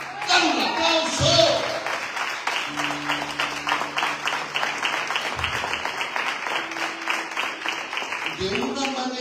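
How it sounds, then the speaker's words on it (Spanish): Applause from a church congregation at a sermon, a steady wash of clapping with voices and music tones mixed in, continuing loud for several seconds. "¡Dale un aplauso!"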